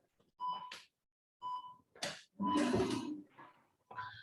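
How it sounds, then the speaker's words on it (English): An electronic workout timer sounds several short tonal beeps with pauses between them, close and clear, alongside a few louder non-speech noises in a quiet room. "I'm going to go ahead and get our timer started here"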